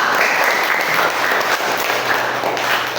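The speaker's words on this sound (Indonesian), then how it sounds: "Tepuk tangannya." An audience in a classroom claps steadily and loudly after a student group's presentation, a dense continuous applause with no pauses.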